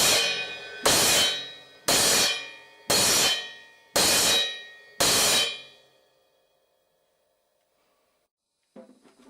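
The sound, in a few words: choked cymbal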